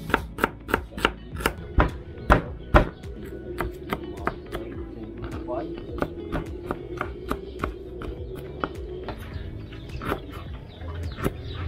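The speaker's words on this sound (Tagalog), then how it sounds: "Nagayat na to ni Idol A, sibuyas, bawang, luya, mga sili" Onion, garlic, ginger and chilies are chopped with a knife in a provincial kitchen in San Pablo City, giving quick, loud, irregular chops in bursts with short pauses over a faint background hum.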